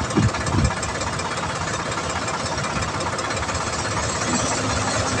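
Tractor engine running at a tractor fair, a steady close diesel rumble with rapid knocking pulses and a couple of brief thumps at the start, continuous throughout.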